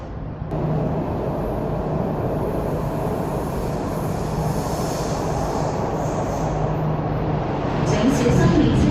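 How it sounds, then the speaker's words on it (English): An MTR Island Line Q-Train pulls into a Hong Kong underground platform with a loud, sustained rumble and rising wheel squeal near the end, under a station announcement. "The train to Kennedy Town is arriving."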